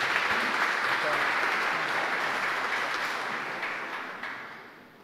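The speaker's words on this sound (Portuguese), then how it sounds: "Uma salva de palmas" An audience at a civic cultural event applauds, steady, dense clapping filling the hall that gradually tapers off toward the end.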